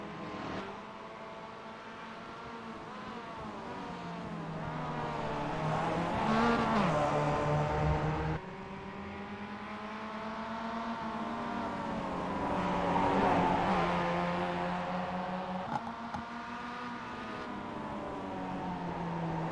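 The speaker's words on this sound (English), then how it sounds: "hear the sounds of these MX-5s around the street circuit here in Detroit at Belle Isle" Mazda MX-5 race cars on the Belle Isle street circuit in Detroit, engines droning and rising in pitch as cars pass near, then fading and swelling again in continuous waves.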